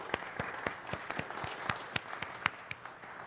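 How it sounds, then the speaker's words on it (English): Sparse applause at a city council meeting: a modest number of audience members clap in loose, separate bursts, with sharp individual claps standing out against a soft room background. "Could we give Jackie a round of applause?"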